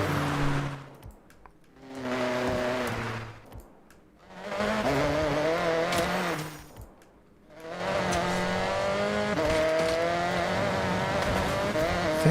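A BMW racing in Forza Horizon 6, its engine rising and falling through three loud, near revving pulls separated by brief lifts, the last one sustained, with faint tire noise.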